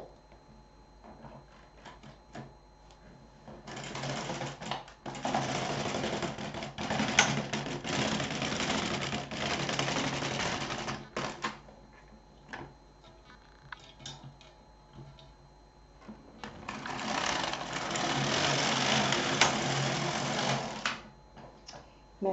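A knitting machine carriage sweeps across for two rows, each pass a long rattling, ticking rush. Quieter mechanical clicks fill the gap between the passes.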